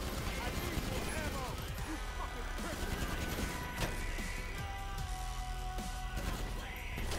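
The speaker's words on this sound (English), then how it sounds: "I bring the fireworks." Fireworks bursting during a party in GTA V Online, a dense, steady clatter of crackles and pops mixed with game ambience, with no pauses across the stretch.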